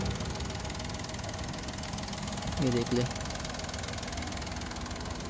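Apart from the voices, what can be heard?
Toyota Pixis Epoch 660cc engine idling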